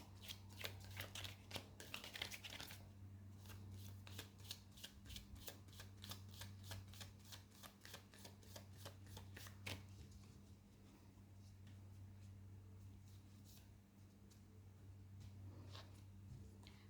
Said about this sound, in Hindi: बॉटम ऑफ द डेक से एज यूजुअल एक ही कार्ड पुल करूंगी।